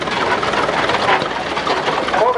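A vintage cross-mounted tractor engine runs steadily and loudly throughout in a 1986 antique farm fair parade in Oregon, a dense mechanical rumble with a chattering, rapid rhythm and no pauses.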